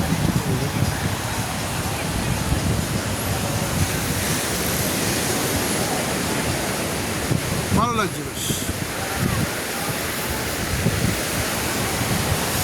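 Broadband surf and wind wash steadily over Palolem Beach at sunset, a continuous roar of waves with wind buffeting the microphone, while a person speaks briefly near the middle.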